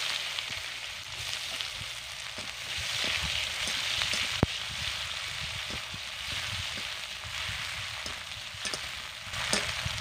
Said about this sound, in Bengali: পেঁয়াজকে আমি নরম করে ভেজে নেব